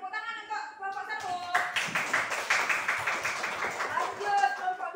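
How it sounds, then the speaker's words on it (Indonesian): Classroom applause for a student group after a presentation, a burst of clapping that swells after about a second and carries on under chatter and voices from the class. "tepuk tangan untuk kelompok 1"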